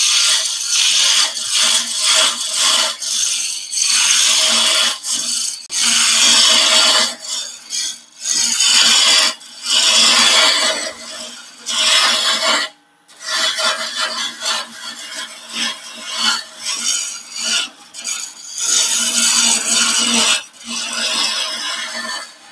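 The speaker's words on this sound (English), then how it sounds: "then we'll use the spindle roughing gouge." A wood lathe turns while a spindle roughing gouge cuts the spinning workpiece, producing loud, continuous rasping and shaving noise in uneven bursts with brief pauses between passes.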